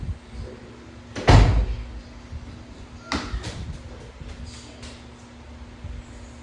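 A door shuts with a solid thud, followed a couple of seconds later by a softer knock and faint rattling in a quiet room.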